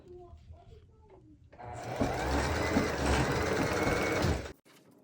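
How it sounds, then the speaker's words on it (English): A sewing machine stitching ribbon and tulle starts up after brief quiet and runs in a loud, steady whir for over two seconds, then stops abruptly. "So I'm just keep sewing."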